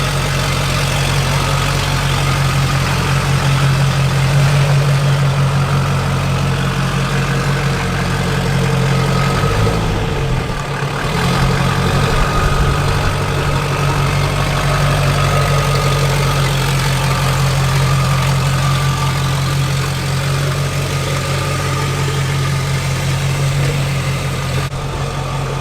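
A junkyard Duramax diesel truck engine runs steadily at idle, a loud, close, continuous low rumble with a faint knocking texture and a brief dip in the middle, with no talking.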